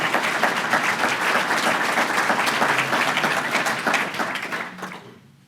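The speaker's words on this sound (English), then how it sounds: "I think we deserve a round of applause for that." Loud, sustained applause from the audience at the City of Roseville, California 2019 State of the City Address, a dense wash of clapping that holds steady for about five seconds before fading out.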